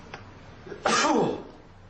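A single sharp sneeze bursts out nearby, loud and brief, after a faint breath.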